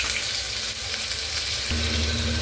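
Onions sizzle and crackle in hot oil, a steady loud frying hiss that thickens partway through as more hits the pan.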